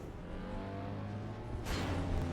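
A hovering vehicle in Dune: Awakening moves across the desert with a steady engine drone, and a brighter whooshing surge near the end.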